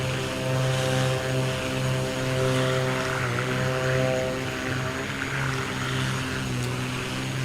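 A Black Square Baron twin propeller plane drones steadily in a flight simulator, a loud constant engine hum with strong layered tones that waver slightly in pitch, with no talk over it.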